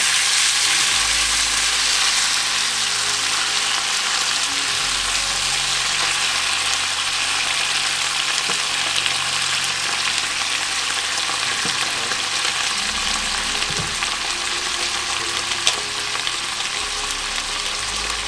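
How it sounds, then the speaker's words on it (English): Three roughly chopped tomatoes hit a hot frying pan for tofu makhani, giving a loud, steady, close sizzle with occasional stirring scrapes throughout. "So I think it's time now to add tomatoes."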